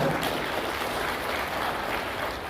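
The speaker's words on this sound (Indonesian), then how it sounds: "Kita beri tepuk tangan untuk pemerintah" Audience applause at an academic oration in Aceh, a dense steady wash of clapping that fills the whole stretch at an even level with no voices over it.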